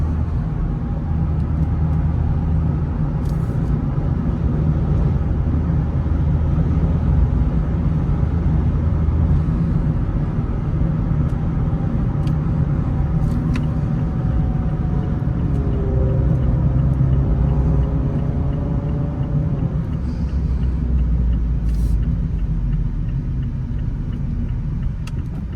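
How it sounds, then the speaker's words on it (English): Inside a 2023 Mazda MX-5 Miata Grand Touring while driving, the engine drones loudly and continuously with a low rumble and road noise, its pitch sweeping briefly mid-drive. "Engine noise is a little loud"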